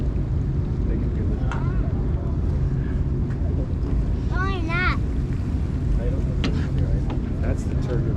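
A boat ride off Orcas Island, with the hull running through turbulence left by jets: a continuous loud rush of engine, wind and water, with brief squealing chirps partway through.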